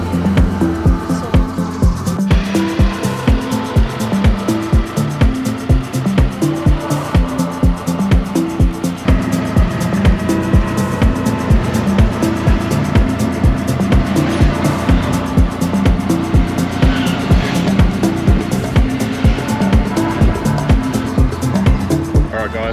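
A tuk-tuk carries passengers through Siem Reap, Cambodia, with its engine droning loud and close. Regular mechanical ticking and road noise continue throughout, with no voices.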